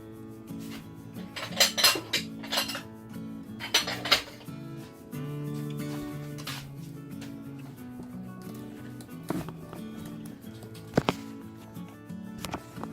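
A plate and a bowl are set down on a table, each one clinking sharply and close. The clinks come in a few separate bursts over a low musical background.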